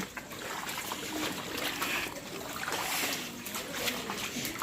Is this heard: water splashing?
yes